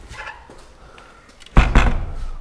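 Wooden shed door swung shut with a solid thud and a brief rattle near the end, after a quieter stretch of faint handling noise.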